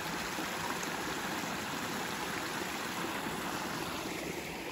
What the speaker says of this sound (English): Baby waterfall.